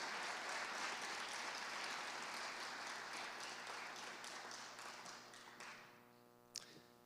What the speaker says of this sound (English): Let's give Dan another round of applause for his support of Canyon School District and Jordan High School